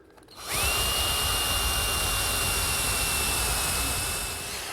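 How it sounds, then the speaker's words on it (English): A power drill with a step bit bores a pilot hole to depth in wood for a kitchen pantry build, spinning up after a brief pause into a loud, steady high whine that holds evenly and eases slightly at the end. "So the first thing I do is drill the pilot hole to the right depth."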